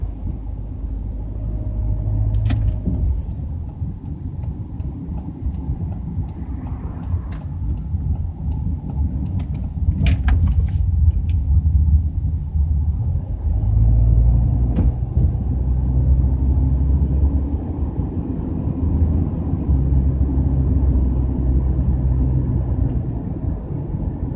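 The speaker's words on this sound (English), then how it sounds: "the wheel bearings are kind of wobbly, so if I apply throttle, you can kind of hear it bind a little bit" Interior drone of a Subaru with wobbly, worn wheel bearings accelerating on the road, a loud continuous low rumble that swells under throttle, with a faint binding drone in the engine and road noise.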